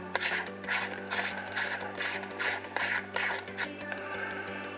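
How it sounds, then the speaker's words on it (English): A wide angle smartphone lens screwed onto its mount gives a steady run of small ratcheting clicks and gritty threading scrapes, evenly paced and close, under a faint constant hum. "This is the main wide angle lens, and it screws"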